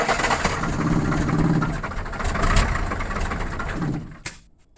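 A car engine runs steadily under applied gas, swelling in two or three broad pushes over several seconds before dropping away abruptly near the end, loud and close with no talk.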